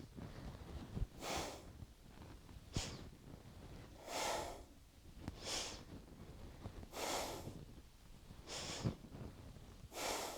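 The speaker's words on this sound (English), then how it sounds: "Inhale left, exhale right." Deep rhythmic breaths during seated yoga spine twists in a root chakra kriya, six strong inhales and exhales alternating at an even pace, close and breathy, with no talking.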